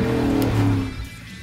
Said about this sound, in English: Both exhausts sound great and make the Silverado sound like a truck really should.